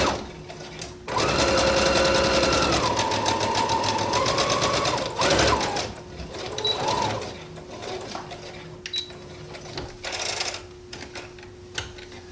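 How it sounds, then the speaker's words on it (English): A sewing machine runs in a long close whirring stretch and then shorter bursts while stitching skirt seams, with soft pigeon-like cooing in the background. "All 4 seams sewn together."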